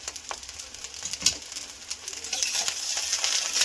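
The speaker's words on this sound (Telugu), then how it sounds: "లాస్ట్ ఒకసారి కలుపుతున్నాము." Fried rice is stirred in a hot pan, giving a soft, close sizzle broken by light scraping and clinking strokes.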